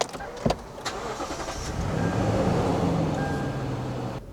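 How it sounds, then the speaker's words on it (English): A truck engine cranks and starts, with a quick mechanical catch followed by a rising, steady idle rumble that holds close and fairly loud before cutting off. "Go ahead and start your vehicle."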